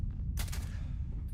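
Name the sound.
laser pistol gunfire in video game Starfield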